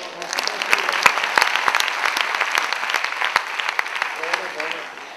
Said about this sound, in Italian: un applauso per la maestra dell'asilo